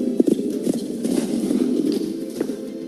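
Horse hooves clip-clop in a Kentucky tourism radio advert, a quick run of close, crisp hoof strikes settling into a rougher trotting patter over about three seconds.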